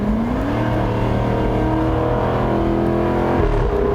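Supercharged Jaguar F-Type R convertible, all-wheel drive, running with its variable exhaust switched on. A strong, close engine note rises steadily in pitch for a few seconds, then drops back near the end.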